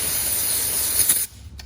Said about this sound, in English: Give the microfiber a little spray.